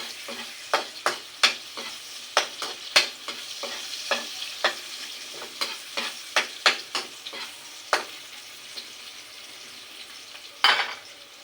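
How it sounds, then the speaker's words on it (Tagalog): Aromatics sautéing with black pepper in a pan for Filipino ginataang papaya with tilapia: a steady sizzle broken by repeated close scrapes and clinks of a utensil stirring against the pan, with a louder clatter near the end. "Kung ako nagigisa, sinasabay ko ng paminta."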